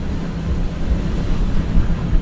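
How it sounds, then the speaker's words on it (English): Steady wind buffeting a microphone during a motorcycle ride near Letchworth State Park gorge, a continuous low rumbling roar with gusty swells, loud and close, no talking. "Oh, it is a little windy."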